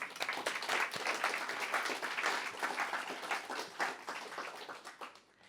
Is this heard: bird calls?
no